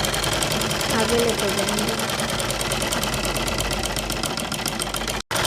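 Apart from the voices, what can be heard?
sewing machine stitching a kurti seam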